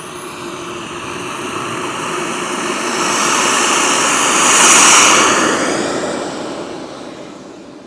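An EA Picaro 2.0 RC jet spools up and takes off on a windless day, its turbine hiss swelling into a loud, close whoosh that peaks as it passes, then fades slightly.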